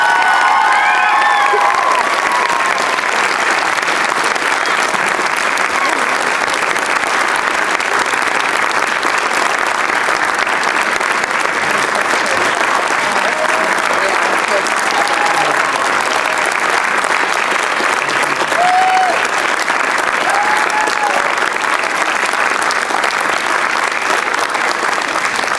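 A school audience at the Ecole Dickinsfield musical gives long, sustained applause for the organisers. The dense clapping holds steady with cheers and children's shouts rising out of it now and then.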